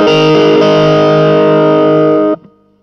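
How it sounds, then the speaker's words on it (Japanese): Electric guitar played through a low-gain Blues Driver overdrive and reverb, ringing out as a loud sustained chord for about two seconds before being cut off, with a soft reverb tail. "1番はブルースドライバーとリバーブのみ、"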